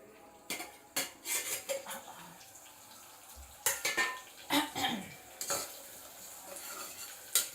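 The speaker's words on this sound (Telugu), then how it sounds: "ఆనియన్స్ ఫ్రై అవుతున్నాయి." Onions frying in a pan for biryani, with a low sizzle beneath sharp metallic clinks and scrapes as a spoon stirs against the pan in irregular bursts, close and without speech.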